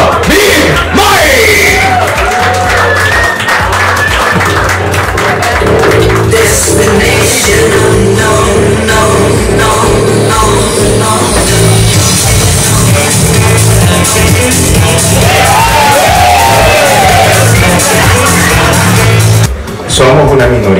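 A comedy show crowd greets a comedian with loud cheering, yelling and whoops over music, a busy, dense roar that stays strong nearly the whole time, with voices shouting through it.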